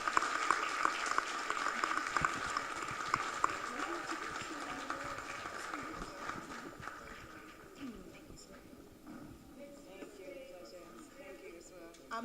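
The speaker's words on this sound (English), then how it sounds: "A huge round of applause for this amazing panel." Audience applause for a panel at an Ebola conference at City College: clapping starts strong, then gradually fades and thins over about twelve seconds as voices talk over it.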